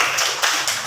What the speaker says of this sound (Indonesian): tepuk tangan buat Inaya tuh, ayo.